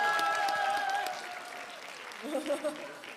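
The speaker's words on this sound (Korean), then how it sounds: "큰 박수 부탁드리겠습니다." Applause from an audience at a Democratic Party concert for recruited candidates, fading out over a few seconds with a voice and tonal sounds over it near the end.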